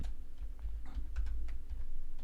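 Quick clicking keystrokes on a computer keyboard, a short run of soft irregular taps close by over low background hum, with no talk.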